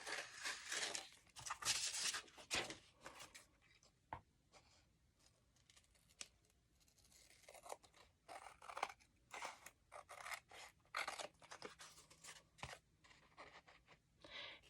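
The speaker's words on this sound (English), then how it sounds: "I'm just going to use my scissors and go around the corner of it." Scissors snip repeatedly around the corner of an ordinary greeting card, with quiet, close crisp cuts and faint paper rustles in an uneven rhythm and no talking.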